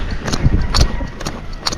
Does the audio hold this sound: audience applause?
no